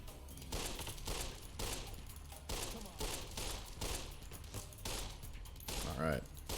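Gunfire in Fallout: New Vegas sounds as faint, repeated bursts of shots at a low level, arriving in uneven clusters across several seconds.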